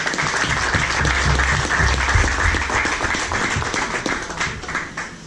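An audience at a motorcycle travel talk applauds steadily, dense clapping sustained throughout before tapering slightly near the end.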